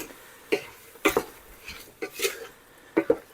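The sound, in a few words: stirring lasagna soup ingredients in a pot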